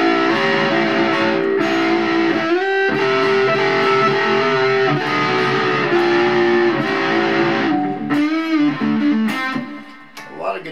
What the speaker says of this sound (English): Guitars, when you play them with distortion